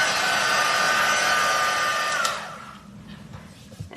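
A heat tool blows hard as it melts embossing powder, a steady loud whirring hiss that cuts off partway through, leaving faint handling noises.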